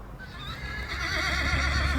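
A mare whinnies loudly with a long, wavering neigh while hooves clip-clop steadily close by, with no talking.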